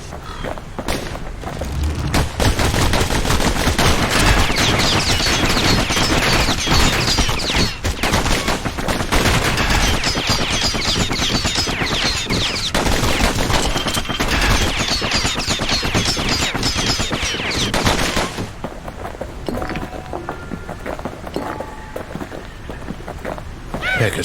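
Sustained gunfire in the video game Bastion roars for most of the stretch as a dense, loud, continuous barrage, then thins into quieter scattered effects near the end.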